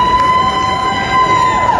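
Graduation crowd at a university ceremony clapping and cheering, a loud dense wash of applause and shouts with a steady tone running underneath.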